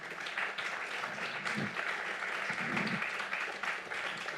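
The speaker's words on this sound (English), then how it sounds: "please give a warm round of applause to Kevin Billy." An audience at a film talk claps steadily and continuously, a dense even patter of many hands filling the whole stretch with no talking over it.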